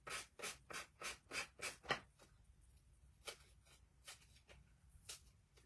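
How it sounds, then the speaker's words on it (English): Quiet rhythmic rubbing strokes of a sanding block on a coaster edge: a quick run of about seven passes, then a few slower, spaced strokes. "I'm going to take the sanding block"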